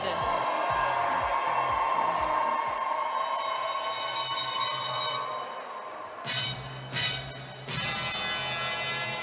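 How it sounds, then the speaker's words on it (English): A large crowd cheers for Ireland at a roller derby track event, a broad sustained roar of voices with loud whoops and bursts near the end, over a steady hum. "Who's here cheering for Ireland?"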